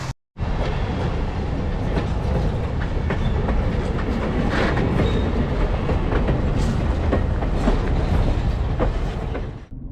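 A train rumbles past close by on a scenic train ride in Jim Thorpe in fall, a loud continuous roar with rhythmic clickety-clack of wheels over rail joints throughout.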